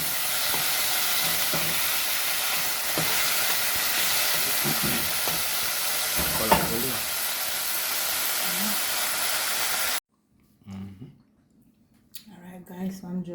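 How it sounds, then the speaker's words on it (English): Hot pepper frying in a pan in a home kitchen for a Jamaican breakfast, giving a steady close sizzle and hiss with a few stirring clinks for about ten seconds before it drops to quieter clatter. "we want to just fry this up for a minute or two"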